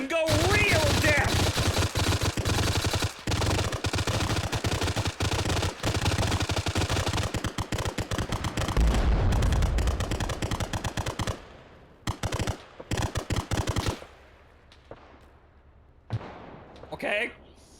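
Dense gunfire in the military game Arma 3, with sustained bursts of automatic fire and rapid shots, loud and near, then breaking into scattered single shots and quieter gaps toward the end.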